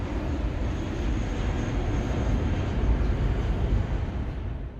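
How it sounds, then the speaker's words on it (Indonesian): Military jet aircraft streak overhead at high speed in a disaster-film scene, a loud continuous roaring rumble that swells and holds steady throughout with no speech. "langit dipenuhi pesawat militer yang melintas dengan kecepatan tinggi"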